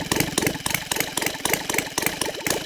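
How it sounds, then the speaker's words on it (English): A Saito 450 model aircraft engine converted to run on gasoline idles steadily, its rapid regular firing pulses loud and close with no talking over it. "you see it idles here pretty good for quite a bit"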